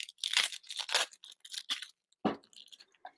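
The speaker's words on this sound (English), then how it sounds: "Take off the first layer," Dry papery skin of a yellow onion is peeled away by hand in several short crackling tears close by, a quick burst of crinkles, a pause, then one more rip and faint rustles.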